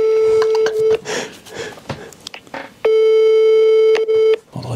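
An outgoing phone call gives a steady electronic ringback tone in long repeating bursts, loud and close, with a stretch of noisy handling and muffled sound between the tones.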